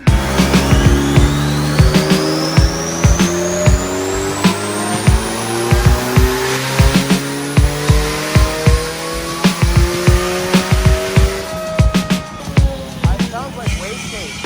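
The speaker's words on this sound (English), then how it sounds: "One wastegate opens, and then you can hear another one after it." A twin-turbo D16 Honda Civic runs hard on a dyno with a loud droning engine and a rising turbo whine. Repeated sharp bursts and pops come as the wastegates open.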